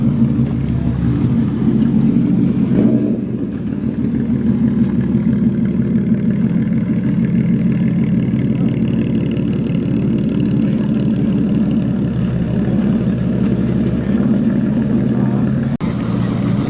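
Jaguar XJ8 engine idling at a car meet outside a pub, a steady low rumble held close and loud throughout, with a brief change in tone early on and a voice talking faintly over it.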